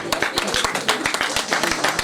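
Wedding guests clapping together, a steady rapid patter of many hands at moderate loudness with no speech over it.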